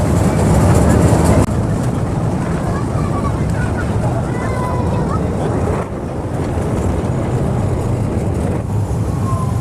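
At the Swapnapuri picnic park in North Bengal, an amusement park train rolls out of a tunnel, heard as a loud, close rumble mixed with wind buffeting while a person talks.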